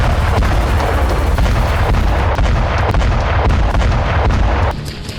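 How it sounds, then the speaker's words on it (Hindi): Continuous heavy shelling and artillery fire during the war in Bakhmut, Ukraine, a loud, dense barrage of overlapping booms and blasts that eases slightly in the final moment. "इस इलाके में एक बार फिर रूस और यूक्रेन की तरफ से बारूदी हमले तेज हो चुके हैं।"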